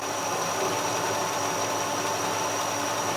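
A 1956 Chevy engine idles steadily during an idle adjustment, giving a constant, even mechanical drone with no voices over it.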